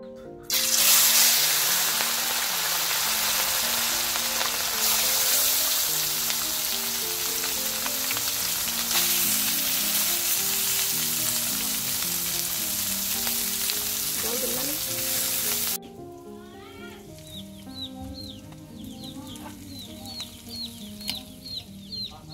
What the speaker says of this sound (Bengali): তেল গরম হয়ে গেছে, এখন দিয়ে দিব চচ্চড়ি।